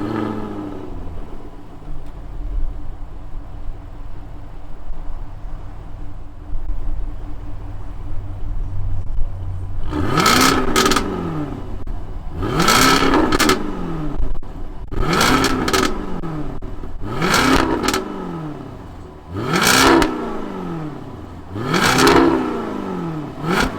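Supercharged 2021 Jaguar F-Type R engine revving in six sharp, loud blips that rise and fall in pitch over a steady idle, close by with no talking.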